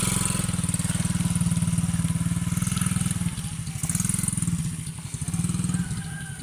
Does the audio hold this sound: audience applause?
no